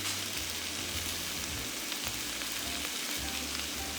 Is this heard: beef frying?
yes